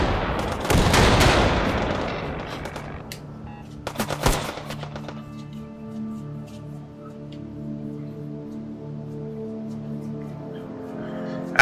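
Automated turrets firing in the VR shooter H3VR, a loud rattling volley at the start and a sharp second burst shortly after, followed by a long ringing, humming tail that slowly fades.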